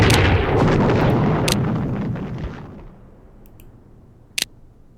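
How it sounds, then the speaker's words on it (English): Airstrikes in the wargame The Operational Art of War IV hit as a loud burst of explosive blasts and rumbling booms that fade out over a few seconds, followed by a brief sharp click. "Looks like they're just going for airstrikes at the moment"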